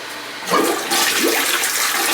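An old toilet flushing, with a sudden rush of water that swells and gushes loudly, then keeps draining in a steady churning wash, close and clear with no voices.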